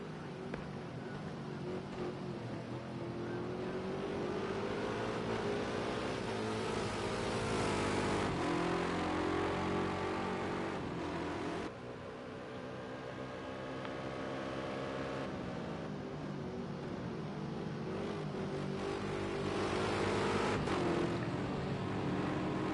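Prototype race cars in a PC racing game at Imola howl and whine continuously, engine pitch rising and falling through gear changes at steady moderate volume with no talking.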